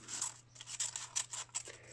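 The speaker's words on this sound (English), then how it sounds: "And then scissors in there, and once again we chop all the way" Scissors chop through paper in quick, crisp snips, about six of them in a loose rhythm, close up over a faint low hum.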